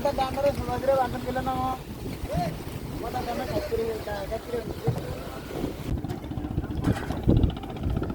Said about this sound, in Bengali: যে মাছ ধরার ট্রলার,